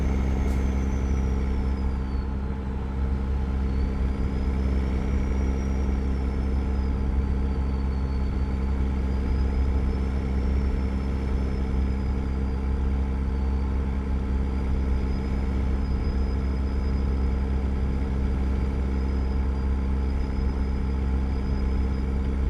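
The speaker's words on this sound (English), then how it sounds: "Love the Caterpillar engine." A Caterpillar truck engine in American Truck Simulator, a Kenworth with a 72-inch sleeper, holds a loud steady low rumble throughout, with a faint high whine drifting over it and no talking.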